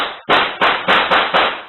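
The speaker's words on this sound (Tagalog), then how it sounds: "umalingaw-ngaw na ang magkakasunod na putok ng baril" Five sharp gunshots in quick succession, loud and close with a brief ring after each, picked up on a CCTV recording of a shooting in which a police officer was killed.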